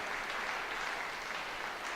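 Steady, dense applause from a crowd at a hunter horse show arena, sustained evenly throughout at a moderate distance, with no distinct voices rising above it.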